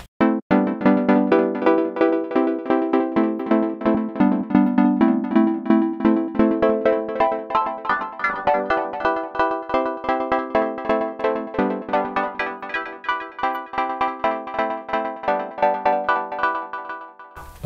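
Square-wave oscillator 2 of the Retrologue 2 synthesizer in Cubase, playing a fast run of short plucked notes, each with a sharp attack and quick decay, in a steady rhythmic pattern with no talk.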